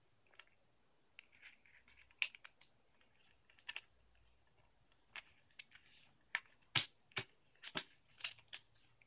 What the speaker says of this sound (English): Take this corner and fold it into this edge.